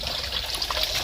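Water from a pump spills steadily out of a pipe in a continuous close trickling splash, with no breaks across the short stretch.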